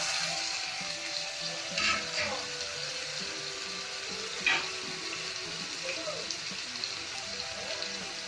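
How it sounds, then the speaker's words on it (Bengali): Ground spice paste for chicken chaap fries in hot oil, a soft, continuous sizzle broken by a few stirring scrapes and clinks, with a voice speaking quietly in the background. "এবার আমি বেটে রাখা মশলাটা গরম তেলে দিয়ে দেব"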